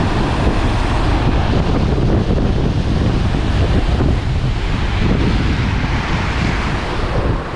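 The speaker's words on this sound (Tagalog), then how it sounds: "Sobrang lalaki ng alon." Heavy surf of large ocean waves crashes on rocks continuously up close, a dense wash of crashing water mixed with strong wind buffeting the microphone.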